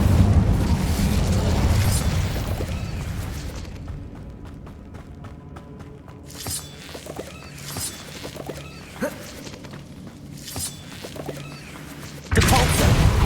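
Bursts of fiery spellcasting from the Incendio fire spell in Hogwarts Legacy, several whooshing blasts with booming impacts over a rumbling game backdrop, ending in a loud sustained roar.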